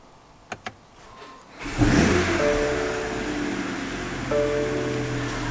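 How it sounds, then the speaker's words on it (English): A 2022 BMW X3 M40i with its stock exhaust fires up after a couple of faint clicks, a loud burst of engine noise settling into a steady, rumbling idle close by, with no talking. "get in your car, start up the car"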